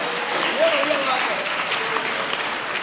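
An audience at a Hindi poetry recital (kavi sammelan) claps in a sustained, dense burst of applause, with a voice faintly audible beneath the clapping.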